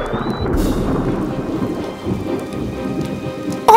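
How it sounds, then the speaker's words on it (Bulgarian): Heavy rain falling with thunder, a dense continuous hiss and patter with low rumbling underneath, loud and close throughout with no talking. "Сега вали повече! И всичко се намокри!"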